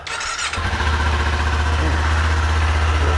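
A 2021 Kawasaki Z400 motorcycle fitted with a race exhaust cranks and fires up, then settles into a loud, steady, throaty idle close by.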